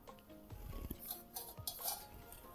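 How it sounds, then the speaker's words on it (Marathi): A hand working urad dal medu vada batter in a bowl, producing soft squelching stirs and a few sharp clinks against the bowl, close and quiet, with no talking. "आता ही पीठ एकदम छान करायचं हो का असं मिक्स"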